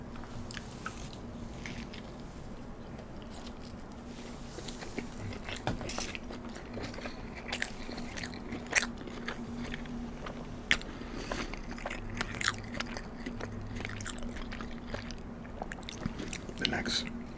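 Sausage, bacon, egg and cheese breakfast sandwich being eaten close up, with soft repeated bites and steady chewing, faint crunches and wet squishes spread throughout over a low steady hum.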